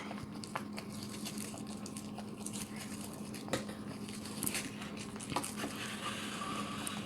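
Homemade slime of face mask, baking soda and contact lens solution gets stirred by hand, giving soft wet squishing and patting with occasional sharper clicks, close up and quiet, with no talking.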